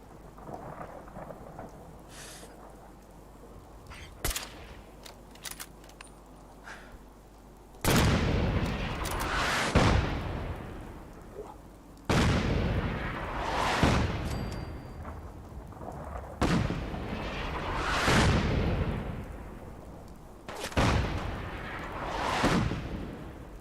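Artillery barrage in Fallout 4: a series of heavy booming explosions, about five big blasts each followed by a long rumbling decay, preceded by a few sharp distant cracks over low ambient rumble.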